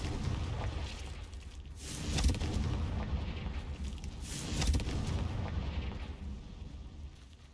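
Confringo fire spell blasts in the game Hogwarts Legacy come as two dull booming bursts a few seconds apart over a low rumbling background, moderately quiet with no voices.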